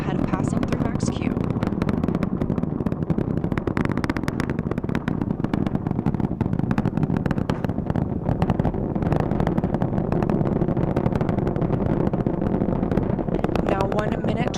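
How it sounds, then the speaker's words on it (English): Artemis I SLS rocket core stage engines at maximum thrust during launch, a heavy continuous low roar with crackling rumble and wind-like buffeting, loud and unbroken throughout. "The 4 core stage engines are back at maximum thrust."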